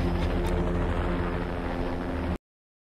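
A helicopter arriving at a rooftop in the film The Sadness, a dense continuous rotor and engine rumble with steady loudness that cuts off abruptly after about two seconds into silence.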